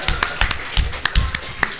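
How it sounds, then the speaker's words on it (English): A round of applause from the audience at a Sonic & SEGA fan event: a short burst of dense, close clapping with sharp, uneven hand strikes, mixed with some voices. "can we give a round of applause for Patrick Korimaru for setting up this event?"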